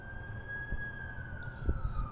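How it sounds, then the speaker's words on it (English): An ambulance siren wails steadily at a distance, a single sustained tone sliding slowly downward over ambient street noise, with a few faint thumps underneath. "That's the ambulance I called."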